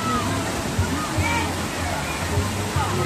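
Rushing water from a waterfall roars steadily, with people talking nearby over it.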